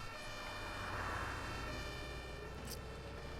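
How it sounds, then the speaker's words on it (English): An ambulance siren wails faintly in the OMSI 2 bus simulator game, a thin, steady tone that sounds distant over a low, constant background rumble. "Oh, and another ambulance."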